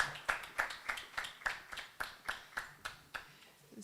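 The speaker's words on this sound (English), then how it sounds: "a round of applause" Quiet, evenly spaced hand claps from a small audience at a suicide prevention awareness day event, a regular beat of distinct claps heard faintly without voices.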